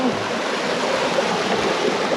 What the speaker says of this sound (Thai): น้ำตกน้ำตก